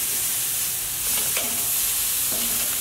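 Flap meat carne asada steak sizzles steadily on a Weber charcoal grill, a broad continuous hiss with brief scraping clatter as the pieces are flipped, no talk.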